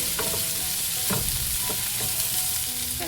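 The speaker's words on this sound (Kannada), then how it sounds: "ಹಾಗೇನೆ ಬೆಳ್ಳುಳ್ಳಿ ಎಲ್ಲದೂ ನಿಧಾನಕ್ಕೆ ಫ್ರೈ ಆಗಬೇಕು" Green chillies and garlic fry in a pan, giving a steady close sizzle with occasional stirring scrapes, with no one speaking.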